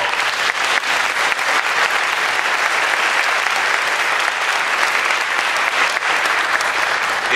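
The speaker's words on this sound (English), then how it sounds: "Let's give them a big round of applause." Audience at a school honors day ceremony applauding for educators, a dense, steady clapping crowd that holds for several seconds without talk.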